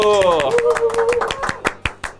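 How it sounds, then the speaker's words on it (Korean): Rhythmic hand clapping in a Korean university student reporter talk segment, starting as a steady run of sharp claps after a voice and laughter, the claps growing more spaced and emphatic toward the end. "자, 박수!"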